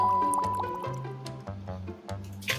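Water sloshing and gurgling inside a bottle shaken to form a tornado, with choppy liquid swishes and bubbling close by, mixed with faint tonal hum.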